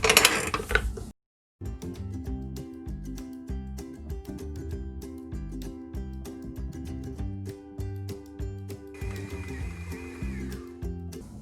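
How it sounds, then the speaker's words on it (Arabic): A bread kneading machine churns pizza dough in a home kitchen, giving a steady rhythmic mechanical whirring and clunking that runs continuously at close range after a brief pause at the start. "je remets mon pétrin à tourner"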